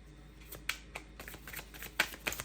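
Tarot cards are shuffled in quick, crisp riffles with soft flicks and taps, close and fairly quiet.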